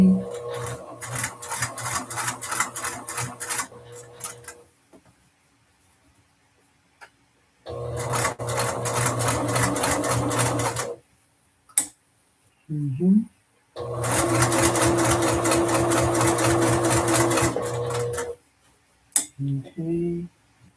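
A sewing machine top stitches a dress in three long loud bursts of fast, even stitching separated by silent pauses, with brief handling clicks and a person speaking in between.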